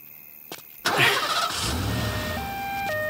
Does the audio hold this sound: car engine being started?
yes